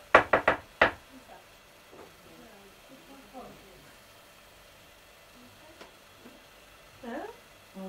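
Several sharp knocks rapped on a table in quick succession at the start, then a late knock and a faint tap, with people talking quietly in between.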